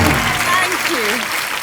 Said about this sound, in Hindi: जोरदार तालियां मनीषा जी के लिए एक बार।